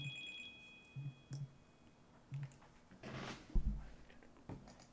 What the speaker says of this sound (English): Okay, I'm getting a phone call